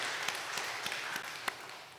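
Church congregation gives soft, distant applause at a Sunday worship service, a faint diffuse patter with a few sharper claps standing out.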